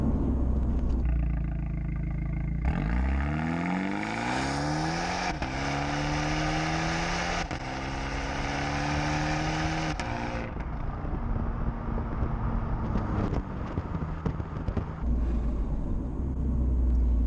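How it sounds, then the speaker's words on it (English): An automatic Abarth 124 engine revs up through rising gears, then eases off under braking. Heavy exhaust rumble is followed by scattered crackling pops near the end. "I never thought you'd actually get that much pops from an automatic"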